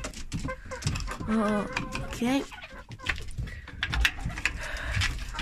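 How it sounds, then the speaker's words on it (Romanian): Chickens and a rooster in a dusty farmyard coop give soft clucks and short calls, close by, mixed with a person's rustling movement and a brief spoken word. "Aici avem cocoșelul acela."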